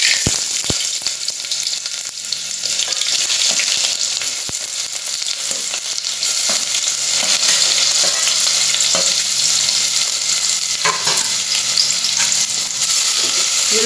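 Onions and tomatoes fry in two tablespoons of hot oil in a pan, giving a steady, close sizzle throughout with occasional stirring clicks and scrapes, and no voices.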